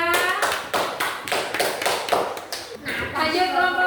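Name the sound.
audience applause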